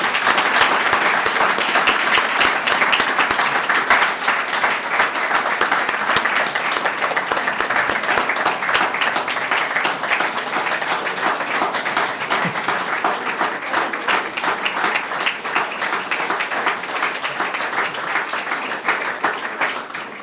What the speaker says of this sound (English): can I just get a final round of applause for all the CLOs